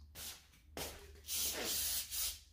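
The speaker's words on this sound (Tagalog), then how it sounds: "Spray ka ng Lysol dun sa baba!" Lysol disinfectant spray hisses from a can in several bursts, a short blast followed by longer sprays, close and fairly soft in a quiet room.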